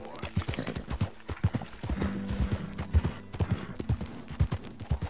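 Horse hooves clopping in the Red Dead Redemption 2 video game, a steady rhythmic trot of close, fairly loud beats running throughout, with a brief whinny and faint talk mixed in.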